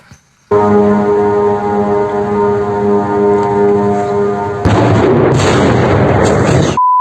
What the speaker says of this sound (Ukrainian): ми чули власне на цьому відео потужний вибух